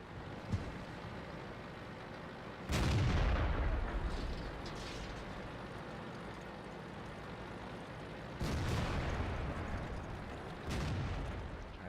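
Tank guns firing in the video game World of Tanks, with heavy booming blasts at intervals over a constant low engine rumble, each shot trailing off into a rolling decay.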